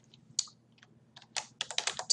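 Keys clatter on a computer keyboard as a file name is typed, a few isolated taps followed by a quicker close burst of keystrokes, with no voice.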